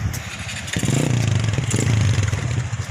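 A motorcycle engine runs close by on a mountain road toward Mount Apo, idling with a low throb before revving up into a steady, loud drone with some rattling clatter.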